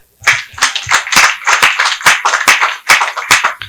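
A church congregation claps rhythmically during a service, a loud, close burst of steady hand claps lasting a few seconds.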